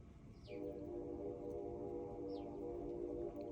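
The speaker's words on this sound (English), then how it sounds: "Muncie is notorious for all of our train tracks and trains, and you can hear it in the distance" A distant train in Muncie, Indiana, on a snowy -1° winter day gives a faint, steady, horn-like tone over a low rumble that holds for several seconds.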